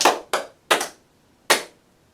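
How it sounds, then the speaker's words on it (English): Hands clapped firmly during a yoga practice, four crisp close claps, the first two in quick succession, then two more spaced apart. "Then clap the hands gently but firmly 3 times."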